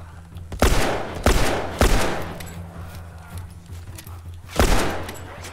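Gunfire in The Last Of Us video game: four sharp shots, three in quick succession and one more a few seconds later, each a loud crack over a low background hum.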